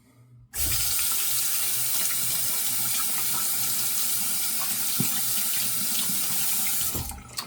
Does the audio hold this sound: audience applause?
no